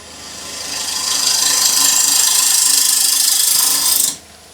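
A wood lathe turning a bowl blank as a swept-back grind gouge cuts, giving a steady, loud, close hissing scrape that builds and holds for about three seconds, then stops abruptly.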